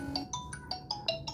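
Incoming-call ringtone on a Colmi P71 smartwatch: a repeating pattern of short, bright electronic chirps pulsing about every 0.2 seconds, close and clear with no talk.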